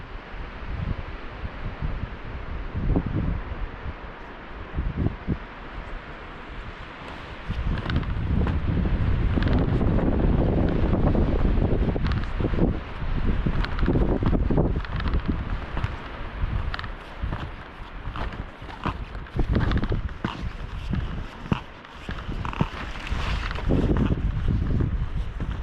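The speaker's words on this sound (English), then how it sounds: "This wind is kind of fun." Heavy wind roars across a mountain ski slope during heavy snow at Jakes Peak, buffeting the microphone in loud continuous gusts that swell stronger partway through, with rustling and faint footstep-like crunches underneath.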